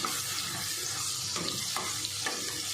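A close, steady sizzle of egg masala paste with cream frying in a pan, with faint stirring scrapes.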